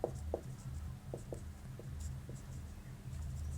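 Pen writing out a calculus differentiation solution on paper, a quiet run of short scratchy strokes and taps in an irregular rhythm, close and faint with no talk.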